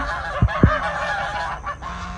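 Neighbor's ducks calling in a raised-bed garden, two loud honking quacks close together near the start, with fainter bird calls continuing in the background.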